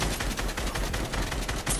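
Rapid, dense video game gunfire in a continuous volley of close, loud shots across the whole short burst.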